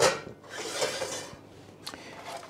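Steamed cauliflower tipped into a roasting pan with garlic, a short close clatter and scrape of pieces landing and shifting in the pan.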